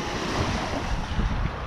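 Pacific Ocean waves breaking on a cold winter shore, a loud, continuous rushing surf close by, mixed with gusty wind buffeting the microphone, and no voices.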